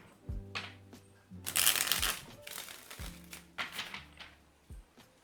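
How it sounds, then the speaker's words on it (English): Tarot cards are shuffled close up in a few riffling bursts with soft taps and thumps between them, and no voices. "The before tarot here for the feminine. 5 shuffles here."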